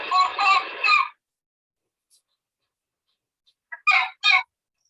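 A young fox gives a few rapid, raspy yips close by at night, a burst of three, then silence, then another short cluster of three calls.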